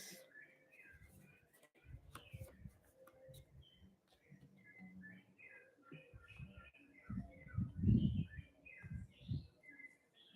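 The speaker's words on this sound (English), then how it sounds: "Birds are chirping a beautiful message." Faint, scattered bird chirps in the distance over soft rustling and quiet low murmurs.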